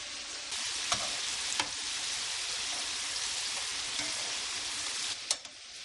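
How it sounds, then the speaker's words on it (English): Wild shrimp cook in a hot pan, giving a soft, even, rain-like sizzle with a few faint pops and clicks, heard alone at low volume. "now we're just going to cook up some shrimp"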